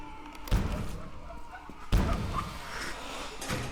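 Two heavy, booming thuds about a second and a half apart as a door slams into an enemy in the horror video game Forsaken Frontiers, over a low ambient game background.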